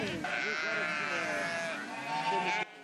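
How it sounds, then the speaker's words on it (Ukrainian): Sheep bleat on a large sheep farm in the Rivne region holding over a thousand sheep, with several overlapping wavering cries from a nearby flock that continue almost without a break. "Мої колеги побували у найбільшій овечій фермі Рівненщини, де утримують понад 1000 овець"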